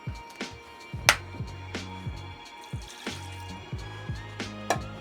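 Soy sauce and sake being poured for a soba dipping sauce, heard as a run of close liquid drips and splashes into a pot, with sharp plinks repeating irregularly and no talking.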